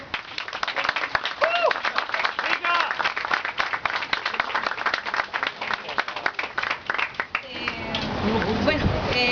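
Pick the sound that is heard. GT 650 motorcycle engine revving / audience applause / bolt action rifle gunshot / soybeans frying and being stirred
audience applause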